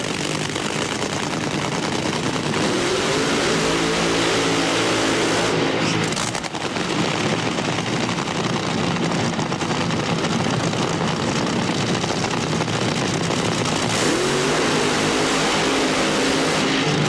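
Mopar-sponsored drag racing car at the 1999 NHRA Pennzoil Nationals in Richmond, its engine roaring loud and steady throughout, with rising revving tones swelling in a few passes.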